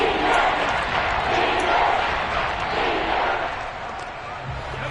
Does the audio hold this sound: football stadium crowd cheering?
yes